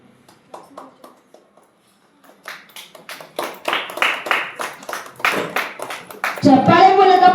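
Applause from the audience at the inauguration ceremony of a children's arts school, starting as a few scattered claps and swelling into steady, fairly loud clapping before speech cuts in at the end.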